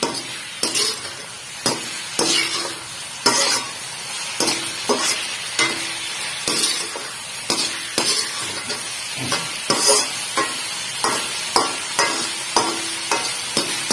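Spicy macaroni pasta fries in a new kadhai over a high flame, with a loud, steady sizzle broken by regular sharp scrapes and clanks of a spoon stirring against the pan, close and with no talking.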